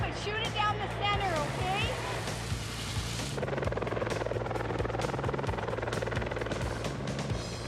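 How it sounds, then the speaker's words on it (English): Firefighting helicopters hovering above a wildfire, a steady low rotor thump running throughout beneath someone narrating at close range. "Helicopters hover above, ready to drop buckets of water on targets marked by the ground forestry crews"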